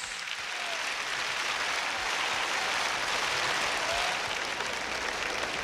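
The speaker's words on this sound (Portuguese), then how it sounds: "Glorifique ao Senhor com palmas." Steady, dense clapping from a large church congregation fills the whole stretch, loud and continuous without letup, with a faint murmur underneath.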